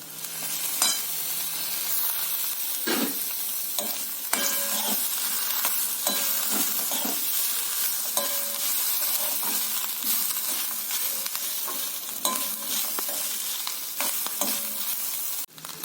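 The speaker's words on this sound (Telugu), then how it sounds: "రెండు పచ్చిమిరపకాయలు, కరివేపాకు వేస్తున్నాను." Green chillies and curry leaves hit hot oil for coconut rice, a loud bright crackling sizzle that holds steady throughout with occasional stirring clinks, close by and without voices.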